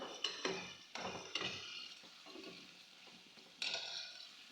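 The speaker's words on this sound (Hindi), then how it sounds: "थोड़ा सा पानी ऐड करते जाएं और जब तक हमारा जो मसाला है प्रॉपर तरीके से घुल नहीं जाएगा तो हम इसकी बुनाई करते रहेंगे" Masala for chicken dal being stirred and sautéed in a pan with a splash of water, quiet sizzling under sharp scraping strokes of a spoon against the metal, several distinct stirring bursts with no talk.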